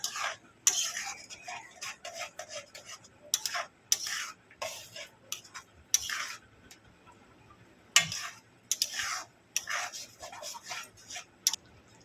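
Chicken Changezi gravy with ground paste stirred and cooked down in a pan, a spoon scraping in repeated bursts of clatter separated by short pauses, near and fairly clear with no talk.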